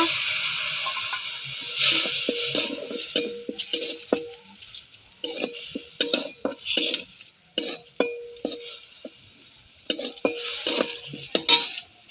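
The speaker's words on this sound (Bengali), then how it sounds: "এটা একটু নেড়ে চেড়ে নেব" Ground spice paste, made on a grinding stone, stirred in a karahi with a metal spatula, giving sharp, irregular scrapes and clanks over a faint sizzle, with quiet gaps between bursts and no voices.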